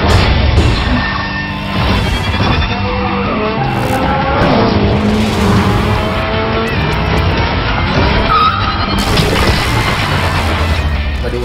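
A car drifting in the Speed Drifters video game, with a loud engine revving and shifting alongside repeated squealing tire skids and an occasional crash thud, continuous and close throughout.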